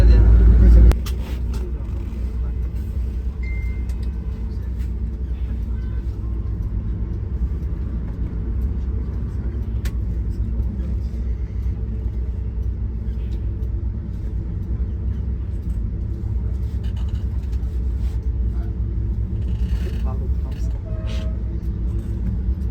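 A CBU Higer coach bus drives at night on the Chittagong–Dhaka road: a steady low engine rumble and road roar fills the cabin throughout, with a louder bump right at the start, and talk is heard over it.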